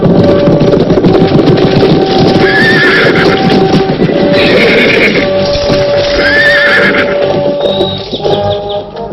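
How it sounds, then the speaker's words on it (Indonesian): Several horses from a historical Javanese kingdom-era film approach, hooves clip-clopping steadily under repeated loud neighs and whinnies, a dense continuous scene with a sustained tone running beneath. "ada 10 orang naik kuda sedang menuju kemari"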